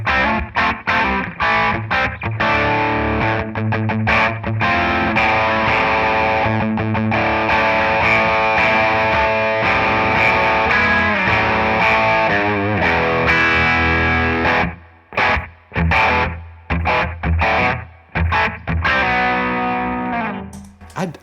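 1978 Ibanez Iceman electric guitar played through a 1976 Roland DC-50 digital chorus with added reverb, a loud shimmering distorted tone with strummed chords and riffs, pausing into choppy bursts toward the end; no talking.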